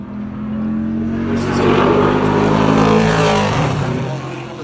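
A Pro Late Model race car at Crisp Motorsports Park on a qualifying lap roars past, its engine note swelling loud and close, then easing as it moves away.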